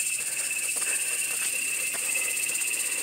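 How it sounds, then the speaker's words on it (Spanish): Cicadas sing in the mountain forest of the Merendón range near San Pedro Sula, Honduras, a continuous high, shrill buzzing drone with pulsing texture, steady and fairly loud, with no voices. "Qué bonito se escucha el canto de las chicharras."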